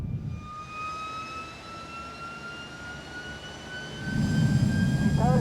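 Jet engine running as the throttle closes and the compressor stalls, a loud sustained whine with tones sliding slowly upward, then a rougher, louder rumbling burst near the end.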